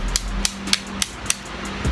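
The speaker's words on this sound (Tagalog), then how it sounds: "Kaka konting pukpok lang na ganun." Metal hammer blows knocking apart an old transformer to recover its copper: about seven sharp, evenly spaced strikes in two seconds, loud and close, over a faint steady hum.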